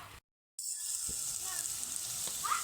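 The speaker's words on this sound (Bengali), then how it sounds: "পেঁয়াজ টমেটো ভালোভাবে কিন্তু ভাজা ভাজা হয়ে গেছে চারদিক থেকে তেল ছেড়ে ছেড়ে গেছে" Onions and tomatoes fry in oil that has separated around them, a close, even sizzle that follows a moment of silence at the start, with faint stirring.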